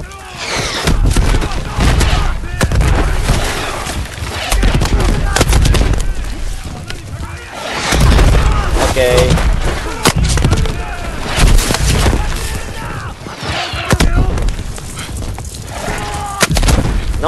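Artillery shelling rages in Call of Duty WW2 at the Battle of the Bulge, December 1944: loud, dense booms and blasts with gunfire crackle rolling continuously, and voices shouting over the barrage.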